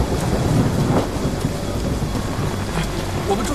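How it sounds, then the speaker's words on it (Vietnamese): Heavy rain pours down in a film scene, with a deep rumble of thunder rolling under it. The rain is a loud, dense, continuous wash, and a voice narrates over it. "Đi đến trời tối thì trời đổ cơn mưa to và không có dấu hiệu dừng lại."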